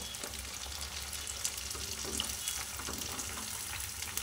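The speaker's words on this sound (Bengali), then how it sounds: "এবার আমি এটাকে নেড়ে দিব হালকা হালকা করে" Peanuts soaked for about four hours are stirred gently in a pan, giving a soft, steady sizzle with light scraping clicks and no talk.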